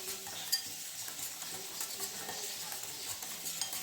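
Turmeric, salt, ground cumin and whole coriander are mixed in a pan while cauliflower is being fried for a vegetarian roast, giving a quiet continuous sizzle with soft scraping stirs and a few light utensil clicks and no talk.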